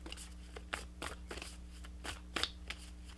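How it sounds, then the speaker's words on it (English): Guidance cards being shuffled for a card reading, giving soft, crisp flicks and riffles in an irregular rhythm, close and fairly quiet, with no talking. "let's pull you some additional guidance cards"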